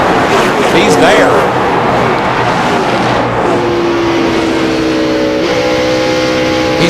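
Stock car engines at The Winston 2002 NASCAR race, a loud, continuous roar with rising and falling pitch as cars run the final laps, heard under steady commentary and crowd noise.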